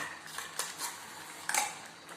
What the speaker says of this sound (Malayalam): നന്നായി മിക്സ് ചെയ്യണം.